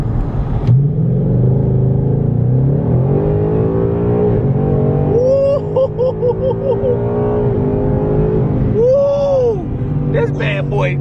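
A new Ford Mustang GT Premium engine revs hard and accelerates, loud and close, with rising and falling pitch sweeps while a person talks and cheers over it.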